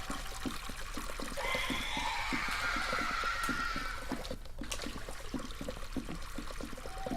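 Continuous water ambience in an Egyptian-themed video game level, a steady trickling, pouring wash with a brief splashy burst midway, over a rhythmic drum-driven music track.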